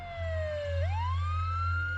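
A police car siren wails steadily as a sound effect in a horror animation, its pitch sliding down and then sweeping back up, loud and alone over a low engine hum.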